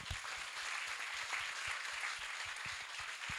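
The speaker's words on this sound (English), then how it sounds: "If everyone can give a round of applause to..." An audience applauds panel speakers after a talk on interior design: a steady wash of many hands clapping at moderate volume, filling the whole stretch with dense, even applause and no voices.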